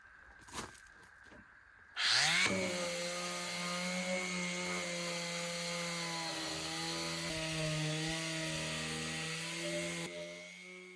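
A power sander works over a wooden bath, starting after a brief knock and running as a steady, loud whirring drone with a gritty abrasive rasp for about eight seconds before cutting off, close by with no talk.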